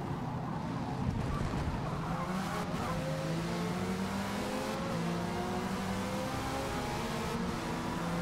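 Race car engine droning steadily in Forza Motorsport at Virginia International Raceway, a Group C car running near and loud, its pitch climbing and shifting through gears with occasional tire squeal, no talk over it.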